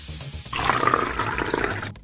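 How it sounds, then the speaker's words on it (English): Water pours steadily into a teapot in a children's science game, a gurgling, splashing fill rising after a short pause and running for over a second before stopping abruptly, close and alone. "Pour some water in it."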